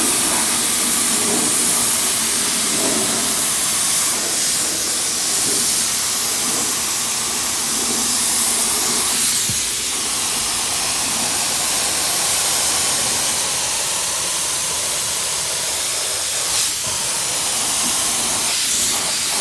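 Continuous loud hiss from an FLG 1.7 spray gun laying down 2-pack black primer on new sills beneath a Toyota Celica GT4 ST185, steady throughout with only slight swells and dips.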